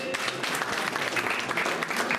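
Steady, dense applause from a crowd at the closing ceremony of the District Chamba Chess Association, filling the whole stretch at an even, moderate loudness with no break.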